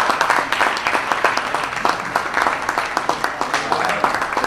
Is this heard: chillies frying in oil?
no